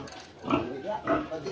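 A sow on a farm gives two low, close grunts about half a second apart, with voices talking in the background.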